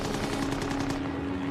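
Aircraft machine guns firing in a World War II Pacific dogfight over Guadalcanal, heard as a loud, dense rattle of rapid shots that cuts off sharply near the end, with a steady engine drone underneath.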